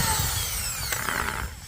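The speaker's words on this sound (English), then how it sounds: "turn on our little drill" A small power drill whirs steadily and loudly near an outdoor power outlet being installed, with a brief pitch shift near the end.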